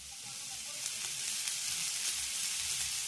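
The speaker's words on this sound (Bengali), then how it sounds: "এবার এই সবজিগুলোকেও আমি হালকা করে একটু ভেজে নেব।" Carrots and mixed vegetables with chopped green chili and salt fry lightly in a pan, giving a steady, soft sizzle that holds evenly throughout with no talking.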